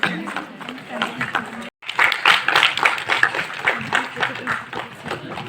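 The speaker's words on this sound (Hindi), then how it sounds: "जोरदार तालियां बजती रहे उत्साहवर्धन के लिए और आपके इस शानदार प्रस्तुतिकरण के लिए" Audience clapping and cheering at a school dance performance in Uttarakhand, a dense, steady wash of applause with a brief drop near the start, an announcer's voice speaking over it throughout.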